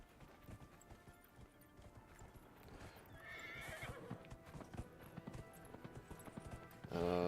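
Horse hooves clip-clop steadily in a Dragon Age: Inquisition game scene, with a brief whinny midway and a sharper sound at the end, all fairly quiet.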